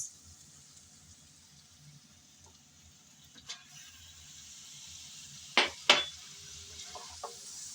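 Small mola fish are stirred with dried fish in a frying pan, giving a faint sizzle with a few scrapes and two sharp clinks of the utensil against the pan, close and mostly quiet.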